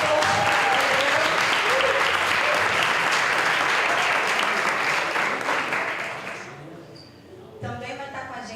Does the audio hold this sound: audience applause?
yes